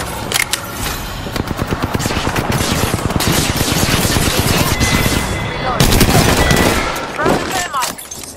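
Loud, close automatic gunfire in a battle royale match of Apex Legends, rapid bursts of shots hammering almost without pause over several seconds, with a sharper flurry near the end.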